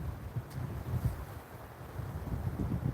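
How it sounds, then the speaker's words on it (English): Strong wind buffeting a microphone out on the water while fishing in Florida, a continuous low rumbling roar with gusty surges, no voices. "The wind is like just pounding us from this direction."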